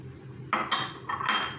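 A spoon scrapes and clinks around a bowl while flour, sugar and yeast for bakery-style hot dog bun dough are mixed, in two short close bursts separated by a brief pause.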